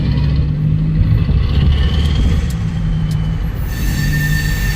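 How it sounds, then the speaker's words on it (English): A train crosses over a road at a level crossing with blinking lights, its heavy rolling rumble close and loud, joined by steady high wheel squeal that stays strong throughout. "That's because the train's going across there."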